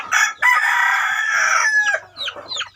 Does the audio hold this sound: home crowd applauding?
no